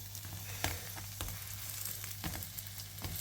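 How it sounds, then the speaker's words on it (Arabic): Shawarma meat frying on a gas stove in a pan, with a steady close sizzle and crackle throughout, sharp pops near the start and a few spatters later, no talking. "سامعين صوت التحميصة محلاها؟"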